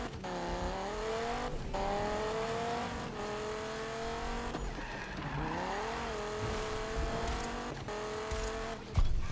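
Engine tones rise and fall continuously in the Need for Speed racing game on PS4, with tire squeal and skidding as the car is driven at speed, loud and steady throughout with no talking.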